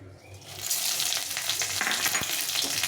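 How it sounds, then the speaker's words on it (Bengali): Dried red chillies and a bay leaf hit hot oil for a tempering. After a brief quiet moment a close, crackling sizzle bursts up and stays strong, with a few stirring clicks. "তেলটা গরম হয়ে গেছে এখানে নিয়েছি শুকনো লঙ্কা ফোড়ন আর হচ্ছে তেজপাতা তো এটা আমি ফোড়নে দিয়ে দেব"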